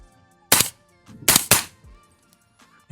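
Three sharp gunshots from a 300 Blackout rifle fitted with a Spike's Tactical compressor ring out at an outdoor range: one alone, then two close together, each loud with a quick decay, no talking.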